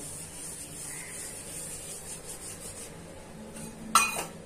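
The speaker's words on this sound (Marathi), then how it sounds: "पहिल्यांदा हे कलोंजी, कसुरी मेथी आपण हातामध्ये घेऊन क्रश करून घालणार आहे" Dry nigella seeds and dried fenugreek leaves are crushed between the palms, giving a soft, steady rubbing rasp, faint and close, followed by a brief sharper clink near the end.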